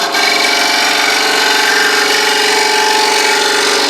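Palo Santo wood spinning on a lathe as an Allen wrench ground into a recess tool cuts inside a hollowed box, giving a steady, loud, close whirring scrape with no talk.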